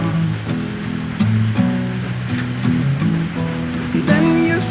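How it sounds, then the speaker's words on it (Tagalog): A river flows steadily at a riverside campsite, a continuous broadband rush of moving water with a soft tonal layer over it and no voices. "May ilog."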